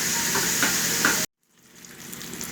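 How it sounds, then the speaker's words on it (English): Garlic and onion sizzle loudly in oil in a pan for about a second, then cut out abruptly before a faint sizzle creeps back. "I'm frying the garlic and the onion."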